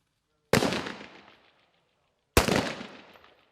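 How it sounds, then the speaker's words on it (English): Two loud live rifle shots ring out at a 25-metre outdoor shooting range, each a sharp crack followed by a decaying echo, spaced about two seconds apart with no talking. "Today, at the 25-metre shooting range, they're using live rounds for the first time."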